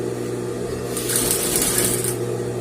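A sewing machine runs in one steady burst, stitching a princess-seam dress, with a constant motor hum that swells into a bright, continuous whir for about a second before easing back.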